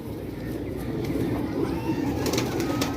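Soft, low pigeon cooing murmurs steadily, with a few birds calling faintly in the background.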